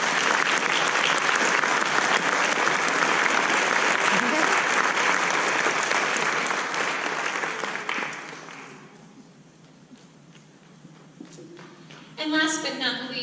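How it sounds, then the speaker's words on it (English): A crowd applauds a choir teacher at a Brooklynn Choir event, dense sustained clapping for about eight seconds that fades out, followed by quieter scattered sounds and a voice near the end. "Please give a round of applause to Miss Allison Zeman"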